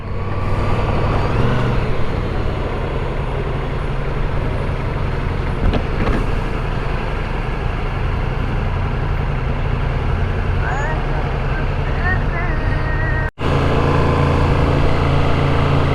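Dense, steady road traffic rumbles in a jam at Chandapura railway bridge, with idling truck and bus engines close by, a brief horn-like tone, and a person talking over the continuous drone.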